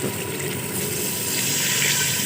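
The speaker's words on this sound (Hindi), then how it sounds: "ये पानी डाल रहे हैं" A steady stream of water gushes into a pot of chicken pulao at a village cooking spot, a continuous close pouring rush that stays even and slightly swells.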